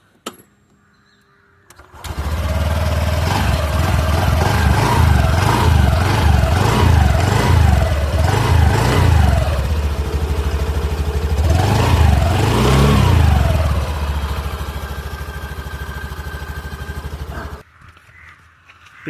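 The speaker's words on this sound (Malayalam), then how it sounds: "അതുപോലെ എൻജിൻ്റെ നോയ്സ് ഒന്ന് കേട്ടോ." Honda Activa 125 BS6 OBD2 B 2025 scooter engine started and revved repeatedly, rising and falling pitch sweeps close by, a steady idle between bursts, then falling silent.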